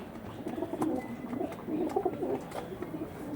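Several pigeons kept for sale cooing together nearby, soft overlapping throaty coos repeating through the moment with a few faint chirps, no talk.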